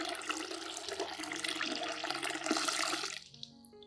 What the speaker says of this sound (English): add 1 liter of clean room temperature water to dilute the solution